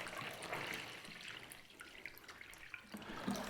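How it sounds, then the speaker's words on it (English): Water poured into a bloom-in-a-box flower arrangement while making a summer bouquet, a soft continuous trickle and splash that runs steadily for a few seconds, close and fairly quiet, with no talking. "we'll add some water straight into our bloom in a box."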